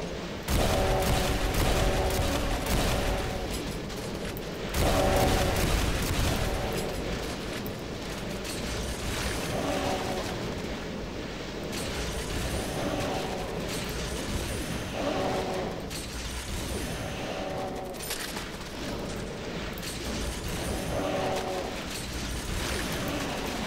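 Cacodemon fireball missiles in heavily modded GZDoom open world, a busy barrage of repeated blasts and impacts pulsing every few seconds over a constant rumbling battle noise.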